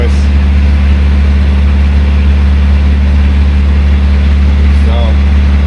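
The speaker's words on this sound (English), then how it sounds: "warming that engine right up." A pony motor, the small auxiliary starting engine on a PD4501 bus, runs steadily while warming up, a loud continuous low drone that stays even throughout.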